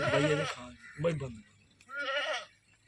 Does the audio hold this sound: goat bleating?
yes